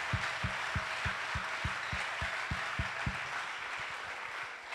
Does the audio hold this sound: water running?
no